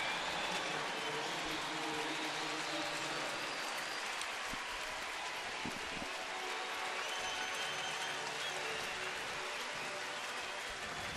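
Baseball stadium crowd of just under 20,000 on their feet, a dense, even wash of applause and cheering that holds steady throughout, heard from a distance.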